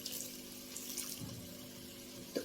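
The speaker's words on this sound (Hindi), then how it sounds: "तो इसमें 2 घूंट पानी डालना है" Water is poured into a pan of potato and fenugreek sabzi, a quiet, steady, close trickle with a faint splash at the end and no talking.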